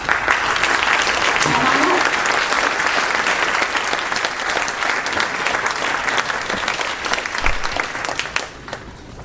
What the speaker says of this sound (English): So please give her a round of welcome and applause.